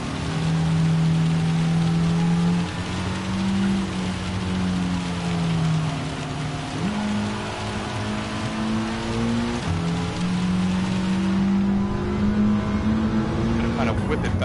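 A Gr.4 Mitsubishi race car laps a rain-soaked High Speed Ring in Gran Turismo 7, its engine droning and shifting pitch through gear changes beneath steady rain hiss, with a player talking over it.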